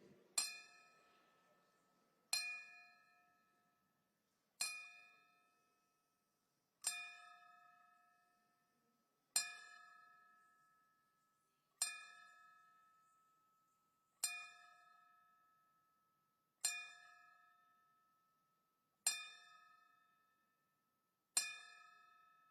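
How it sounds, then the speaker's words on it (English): Ten evenly spaced bell strikes for a traditional boxing ten-bell salute at a fight night, each bright metallic ding ringing out and decaying in a quiet hall before the next. "we give boxing's traditional 10-bell salute"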